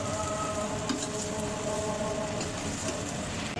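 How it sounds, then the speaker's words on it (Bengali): Jackfruit frying in a pan, a steady dense sizzle that stays even and close throughout with no talking. "কাঁঠাল ভাজা হয়েছে।"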